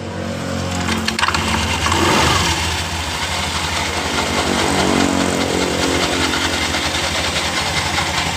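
A Honda Genio scooter engine runs steadily at idle after a CVT service, a close, loud, constant buzzing hum with a slight rattle and minor surges throughout, with no talk.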